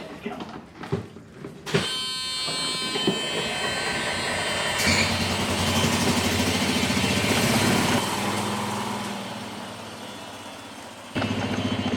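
A side-by-side utility vehicle engine runs steadily through most of the stretch with a rough, buzzing drone, preceded by brief knocks and handling noises and ending abruptly. No one talks.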